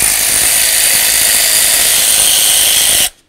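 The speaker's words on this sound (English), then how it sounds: "Now let's remove the three bolts that hold this bracket" A power tool runs loud and close for about three seconds while removing bracket bolts on a 1994-2004 Chevy S-10, a steady whirring roar that cuts off abruptly at the end.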